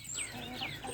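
Backyard chickens cluck close by in a steady run of calls, with a few rising squawky notes over a quiet background. No one talks.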